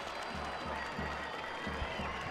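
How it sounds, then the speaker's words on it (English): Stadium crowd at a football match gives a broad, distant roar and applause as a player leaves after a red card, faint and steady, with a commentator speaking over it. "a loud roar and applause for Tambakis, the man who received the red"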